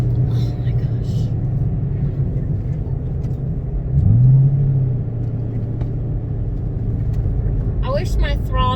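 A Ford Mustang GT engine droning from inside the car on a test drive, with a steady low rumble and one brief rev swell midway, heard under someone talking.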